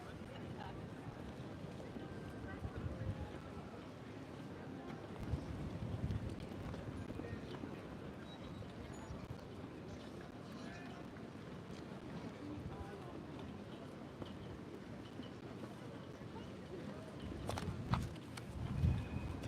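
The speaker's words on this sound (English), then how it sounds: "It's pretty windy." Wind blows at an outdoor live outreach event, giving a steady, faint buffeting rumble on the microphone with gusts throughout and a few stronger bursts near the end.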